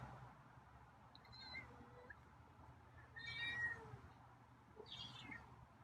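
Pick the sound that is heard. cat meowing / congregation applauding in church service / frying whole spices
cat meowing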